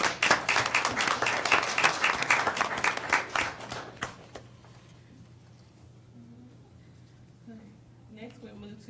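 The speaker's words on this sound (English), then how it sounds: "let's give her another round of applause" Audience clapping for a student named Zaire at a regular board meeting, a burst of brisk, fairly loud applause lasting about four seconds, then a quiet room with faint voices.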